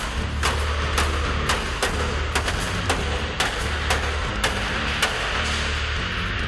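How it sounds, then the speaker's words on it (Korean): A hammer strikes a steel plate welded to the steel frame of a bus being converted into a camper: about a dozen sharp, ringing metallic blows at an uneven pace, close and loud over a low background rumble. "망치와 기계를 이용해 1시간 만에 겨우 철판을 분리해냅니다"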